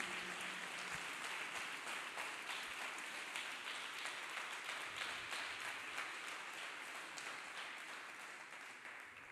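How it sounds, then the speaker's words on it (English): A church congregation claps hands together, a steady dense wash of clapping that carries on throughout, fairly distant and moderately loud, with no voices on top. "Clap hands for Jesus Christ."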